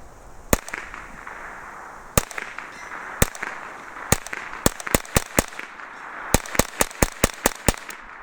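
Rifle shots from a Smith and Wesson M&P 15-22 or AR-9, fired one at a time in an irregular string of about fifteen sharp, loud cracks, some spaced apart and others in quick bursts, outdoors with no talking.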